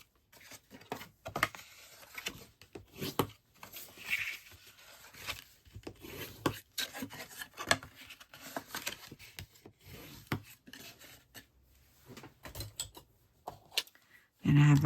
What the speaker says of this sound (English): Just burnish these ones at the same time.